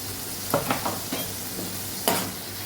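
Oil sizzles steadily in a pan as coriander-cumin powder and pav bhaji masala sauté for a Mysore dosa filling, with a few scraping stirs of a spoon breaking through the hiss.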